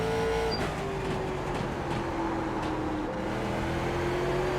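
Late model stock car in iRacing on a short oval track, a continuous loud engine drone rolling through a corner, with a slowly shifting pitch and constant road noise, no voices heard.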